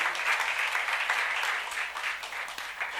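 A church congregation at a youth worship service claps during a sermon, giving a dense, even burst of applause that stays at a constant level for about three seconds.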